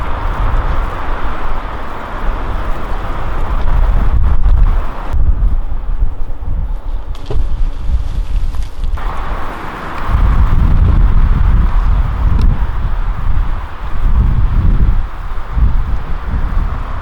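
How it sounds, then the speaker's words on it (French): Strong outdoor wind buffets the microphone beside the Vilaine river during a magnet fishing session. A heavy low roar rumbles on almost continuously, dipping briefly midway before surging back. "Il y a beaucoup de vent, hein, j'espère que vous m'entendez bien."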